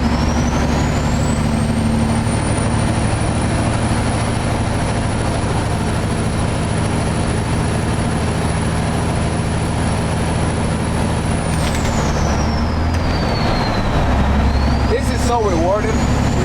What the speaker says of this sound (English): You can hear the turbo talking now.